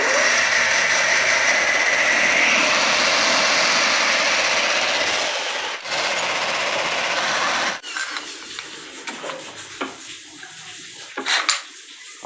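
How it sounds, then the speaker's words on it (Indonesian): A lathe turns a metal part for a rear gas shock absorber of a Chevrolet Captiva, converted to a standard oil shock. A loud, steady, hissing cutting noise runs for about eight seconds, then the machine stops, followed by scattered metallic clinks and handling sounds. "kita langsung ke mesin bubut untuk membubutnya"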